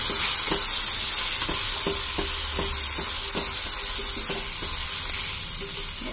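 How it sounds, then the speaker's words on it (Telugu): Gobi Manchuria fried rice being stirred after vinegar and soy sauce go in: a loud continuous sizzle with a regular rhythm of spatula scrapes and taps against the pan, alone without talk. "వెనిగర్, సోయా సాస్ వేసుకున్నప్పుడు బాగా కలుపుకోవాలి."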